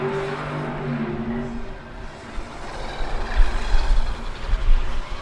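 A race car pulls out of the pits, its engine rising from a low rumble to a louder, rougher drone that swells and surges near the end, with no talking.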